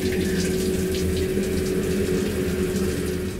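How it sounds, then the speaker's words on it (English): A shower runs aboard a train, a steady loud rush of water with a constant pump-like hum beneath it, continuous and close, with no one talking. "So it took a little while for the water to flow and to heat up"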